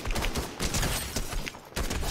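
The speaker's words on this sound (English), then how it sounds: "Where is this person shooting at me from?" Gunfire rattles in Fortnite as dense, continuous bursts of loud shots run almost without pause.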